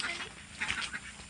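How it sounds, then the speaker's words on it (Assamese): Ducks kept in a shop give a quick burst of honking quacks, close and fairly loud, lasting barely over a second. "আমি দোকানতে পুহিছোঁ হাঁহ, দেখিছেনে?"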